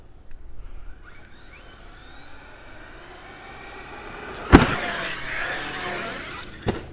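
An Arrma Kraton EXB RC car's electric motor whines and revs while the car lies upside down at a ramp bash, rising thin tones that build to a sudden loud burst, then a steady rush and a final sharp hit.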